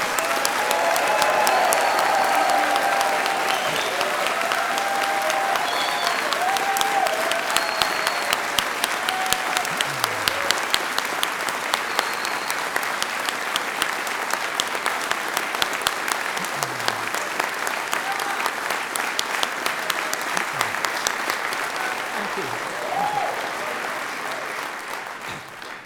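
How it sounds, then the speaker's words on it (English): A large graduation ceremony audience gives a long, loud round of applause with cheering, whoops and scattered whistles, sustained and even before tapering slightly at the end. "stand to offer one final round of applause to recognise the achievements of our graduates"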